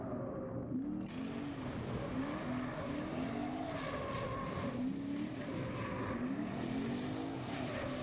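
A Lexus car engine revs up and down steadily during a drift test drive, with rising and falling engine tones throughout, heard from inside or near the car, with no talking.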